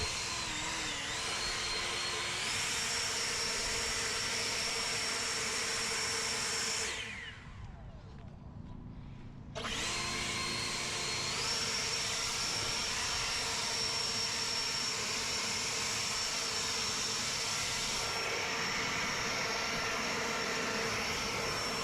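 An EGO 650 CFM battery leaf blower with a variable speed trigger runs with a loud, steady high-pitched whine. It cuts out briefly midway, then spins back up and holds its drone.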